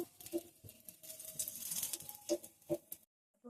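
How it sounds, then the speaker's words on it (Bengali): White mustard seeds and five-spice spatter and pop in hot oil while green chilies and mango are cooked, making scattered crackling bursts over a soft sizzle before the sound cuts off suddenly. "দিয়ে দিচ্ছি হচ্ছে সাদা সর্ষে, এটা ওইদিকে ফাটছিল।"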